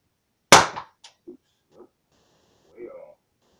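A single sharp gunshot is fired at a shooting target with two white dots. The loud crack is close and decays quickly, followed by a few faint clanks and soft sounds.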